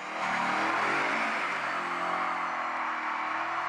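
Car engine revving steadily during a clutch-kick drift, loud and sustained with rising, wavering RPM and tire noise over nearly four seconds, no talk.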